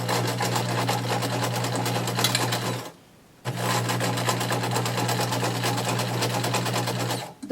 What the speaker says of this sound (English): Set your stitch length about medium long